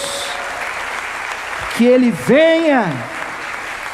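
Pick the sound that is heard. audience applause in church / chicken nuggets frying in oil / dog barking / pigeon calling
audience applause in church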